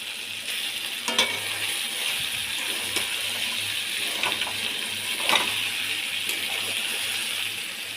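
Chicken curry, already browned, frying in a pan, a steady broadband sizzle running the whole time with a few brief stirring clinks and bumps, close and fairly loud, no voices.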